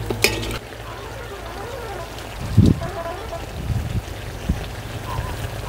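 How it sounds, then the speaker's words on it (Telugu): Pepper chicken fry being stirred in a pan, a soft continuous sizzle with occasional scraping clinks of the spoon, close and moderately loud, a voice briefly heard. "ఇదొక్క 5-6 నిమిషాల పాటు నీరు దగ్గరగా అయ్యే వరకు బాగా కలుపుతూనే ఉండాలండి"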